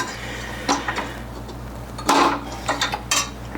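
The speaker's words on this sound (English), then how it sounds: "Put the beater on the whisk." A beater clicks into place on a kitchen mixer during keto buttermilk bread prep, with a few sharp metallic clinks and knocks spaced over a few seconds against a quiet room, and no talking.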